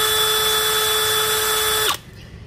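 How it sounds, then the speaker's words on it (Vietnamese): DeWalt DCK299 cordless drill motor running smoothly at steady speed, a loud even whine with a high tone that holds alone for nearly two seconds before the motor cuts off abruptly. "Máy chạy rất là êm luôn, nghe tiếng tiếng động cơ chạy êm cực kỳ."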